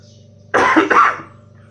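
A single close, loud cough that breaks into a throat-clear, from a man with a cold brought on by heavy fog, standing alone against a quiet background.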